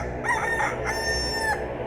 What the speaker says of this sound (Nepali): र भाले बास्यो